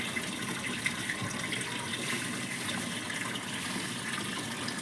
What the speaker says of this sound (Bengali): অনেক জলে ফোর্স গেছে কমে, একদম জলে ফোর্স নেই। দেখো না, পুরো কল খুলে দিয়েছি।